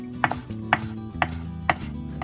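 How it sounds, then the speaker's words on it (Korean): A knife chops green onions finely into a garnish, giving four crisp, evenly spaced cuts against a board, close and distinct over steady background music. "고명으로 사용할 쪽파는 잘게 잘라주세요"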